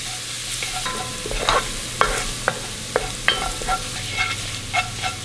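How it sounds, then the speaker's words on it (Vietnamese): Minced garlic sizzles steadily in hot oil over low heat, broken by sharp clicks and scrapes of a utensil stirring the pan, fairly close with no voices. "Cho hết phần tỏi băm vào phi"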